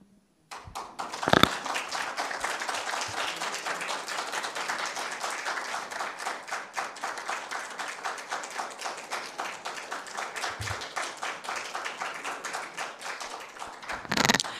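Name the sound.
audience applause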